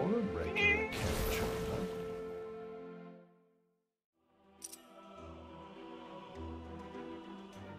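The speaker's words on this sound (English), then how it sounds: "this cat looks tighter to me than the other one" A cat meows in the video game Forspoken, with two or three clear, close meows at the start, a brief pause, then a softer, longer cry over quiet ambient background.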